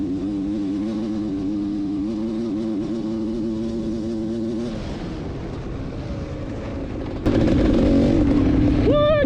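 Vintage quads, a Tecate 4 and a Quadracer, drag racing in a sand bowl: engines buzz and rev with wavering pitch, then roar louder and closer as they launch, with faint voices briefly audible.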